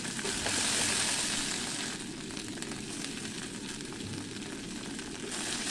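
Okra and green chillies frying in coconut oil over mustard seeds already popped in a pan, giving a steady, close, loud sizzle and crackle that continues without a break while being stirred.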